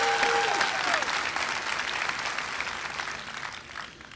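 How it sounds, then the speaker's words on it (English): At a Columbia Southern University graduation ceremony, a large audience applauds in a dense, steady wash of clapping that slowly fades, with a brief tone and voice heard near the start. "a very big round of applause"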